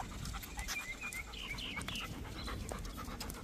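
A male Rottweiler pants quickly and rhythmically during an outdoor walk, close by and fairly quiet, with no talking.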